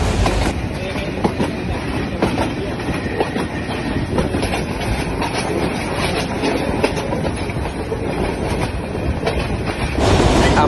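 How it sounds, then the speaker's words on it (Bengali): Narsingdi Commuter train running on rails from Narsingdi toward Bhairab, heard from inside with a loud, steady rumble and clickety-clack of wheels throughout, rising slightly at the end. "আমাদের ট্রেনের ভ্রমণ শুরু হলো।"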